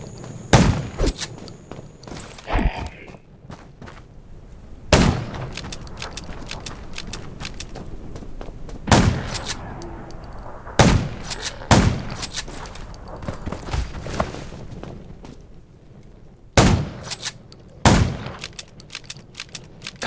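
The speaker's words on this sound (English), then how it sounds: "Gunshots will attract more zombies." Gunshots ring out in the zombie survival video game Undawn, firing as sharp single reports and short clustered bursts, spaced irregularly across the scene, loud and close against a low ambient background.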